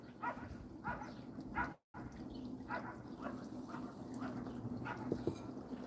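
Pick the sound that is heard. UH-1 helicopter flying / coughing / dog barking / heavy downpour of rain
dog barking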